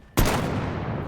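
A single loud, sharp bolt-action rifle shot in the VR game Medal of Honor, with a sudden crack followed by a sustained rumbling echo that tails off.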